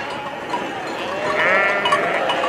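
Sheep bleat over a dense background while cycling through a flock by a reservoir in Sirdal, Norway, several overlapping wavering calls, one rising clearly in the middle, fairly close.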